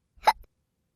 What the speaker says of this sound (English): Pete has the hiccups.